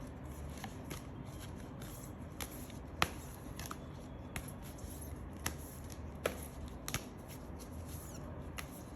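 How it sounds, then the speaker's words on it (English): A deck of cards is shuffled quietly, soft riffling with scattered crisp snaps and clicks, close up with no talking. "I'm always careful while shuffling cards"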